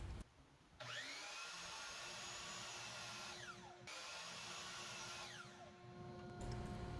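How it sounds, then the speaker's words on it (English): A miter saw cuts 30-degree angles on each end of a wooden patio door handle: the motor spins up to a steady, loud whine, winds down, then runs up again for a second cut, with no talking. "So I just decided to take it over to the miter saw and put two 30-degree cuts on each end."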